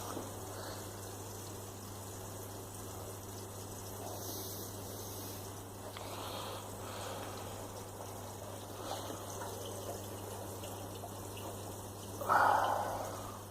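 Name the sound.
water dripping and trickling in Grainfather brewing system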